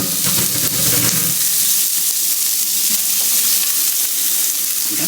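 Onions sizzle and fry steadily in a hot wok, a dense continuous hiss and crackle at close range, with a few stirring scrapes early on and no talk.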